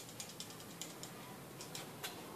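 A lacquer coating spray can is shaken in short regular strokes, giving faint rattling clicks about every third of a second, quiet and close.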